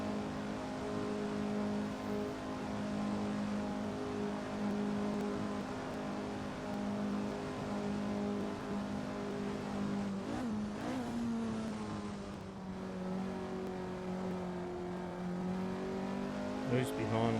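Several 1967 Formula 1 race cars drone steadily in a racing video game, a dense layered engine roar with gear changes and a brief tire squeal, while someone talks over it.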